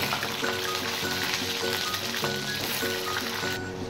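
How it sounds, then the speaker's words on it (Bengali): Chunks of taro (kochu) sizzle and crackle steadily in hot oil in a home kitchen, a close, continuous frying hiss with faint bubbling. "এবার কচুগুলো আমি প্রথমে ভেজে নেব।"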